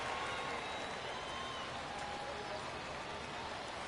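Home crowd in a baseball stadium in a PS4 video game gives off a steady, diffuse murmur of noise throughout. It stays at an even level with no distinct cheers.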